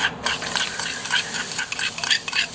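Garlic stirred and sautéed in a pan while cooking pork asado: a close, steady sizzle with repeated scraping strokes of a utensil against the pan, no voices.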